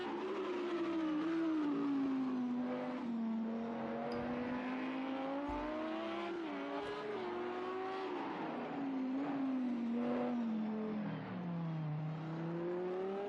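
Rallycross race cars pass and accelerate at the GRL event at COTA, with loud, continuous engine roar rising and falling in pitch as they rev through the gears and go by.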